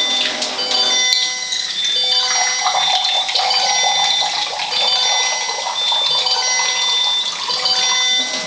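Water flowing from a Tyent water ionizer running in turbo mode, a loud, steady, close rushing stream that continues without a break for over eight seconds.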